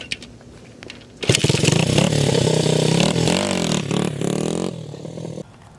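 A vintage 1981 Honda XR80 dirt bike engine, bought cheap and reportedly without spark, catches after about a second and runs loud and close, revving unevenly for roughly three and a half seconds before cutting back to near quiet.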